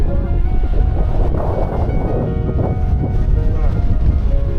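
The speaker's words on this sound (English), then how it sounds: "Here we are in the wind." Strong wind sweeps across a hiking trail in Madeira on a winter night, a loud, constant low rumble and roar as gusts buffet the microphone throughout.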